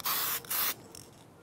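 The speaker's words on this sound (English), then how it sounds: "You can just give it like a little quick spray," Martha Stewart satin enamel spray paint hisses from a can in two short bursts, close and loud, followed by faint handling noise.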